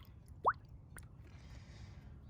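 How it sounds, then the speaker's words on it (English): Air bubbles gurgling out of a squeezed coolant hose on a Jeep Cherokee while the cooling system is burped, one distinct plop followed by a fainter bubble, then soft liquid hiss. "if it helps to burp the system, go ahead and squeeze this hose and air bubbles will come out."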